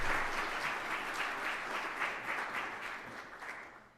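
An audience applauds steadily for a speaker at an evening presentation on global energy, a dense even wash of clapping that slowly fades toward the end.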